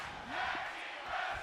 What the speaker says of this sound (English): As the crowd chant for tag team wrestling, tag to Femi.